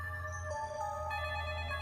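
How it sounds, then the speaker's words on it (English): Phone ringing in the Summer Nightmare video game, an electronic ringtone playing a continuous melodic chime pattern at moderate volume over a low background hum. "As soon as I got home, the phone rang."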